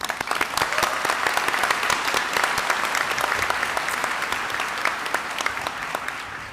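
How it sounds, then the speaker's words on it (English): Sustained audience applause fills a commencement hall, a dense steady wash of many clapping hands that fades slightly toward the end. "so I'm going to applaud you for that."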